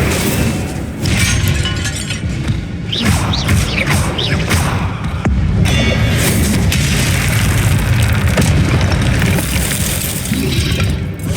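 Booming fire spell blasts cast with Incendio in Hogwarts Legacy, loud bursts with crackling, shattering edges repeating through busy combat effects.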